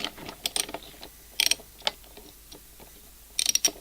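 A socket ratchet snugs the spark plug on a Makita leaf blower, giving quiet, close clusters of sharp ratchet clicks in short, irregular bursts with gaps between strokes.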